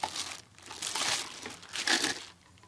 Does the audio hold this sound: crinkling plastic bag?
yes